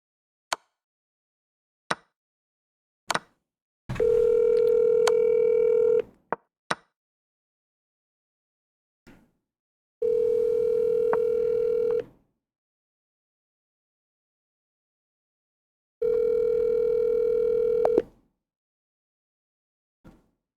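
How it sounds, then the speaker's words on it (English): A telephone call rings before going to voicemail: three long, even electronic ring tones spaced several seconds apart, each about two seconds, with faint clicks and taps in the quiet gaps and no talk. "He might be annoyed that I'm calling him on stream"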